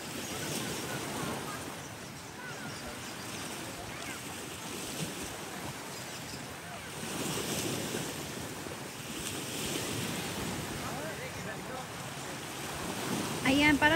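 Sea waves wash steadily onto a beach, a continuous broad surf roar with slow swells in loudness, mixed with wind buffeting the microphone.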